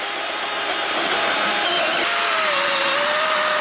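A cordless saw cuts through wood in a steady, loud, continuous whine and buzz that holds for the whole stretch, with the pitch shifting slightly partway through; no voices.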